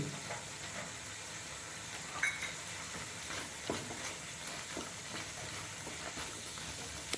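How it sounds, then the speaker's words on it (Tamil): Cashews and green chillies sautéing with onions in a pan for a paneer butter masala base: a steady soft sizzle and hiss with occasional faint stirring clicks, no voice. "அதையும் சேர்த்து வதக்கணும் ஒரு பத்து பீஸு முந்திரி"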